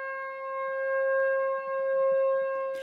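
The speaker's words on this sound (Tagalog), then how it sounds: "Pagtunog ng sirena" A steady, sustained civil defense siren tone for a nationwide earthquake drill holds at a constant pitch throughout, fairly distant, with a faint burst of noise at the very end.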